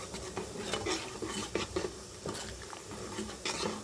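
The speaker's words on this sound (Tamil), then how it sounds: "இப்போ சேமியாவை சேர்த்து நல்லா மிக்ஸ் பண்ணிக்கலாம்." Vermicelli being stirred into sago milk payasam in a pot, with soft scraping and clinking of a spoon against the pan in irregular strokes, close and moderately quiet, no talk.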